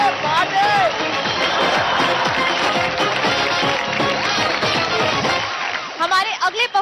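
A studio audience at the Dance India Dance Season 4 show applauds and cheers a dance troupe in a loud, dense, continuous wash that cuts off sharply near the end, leaving scattered voices.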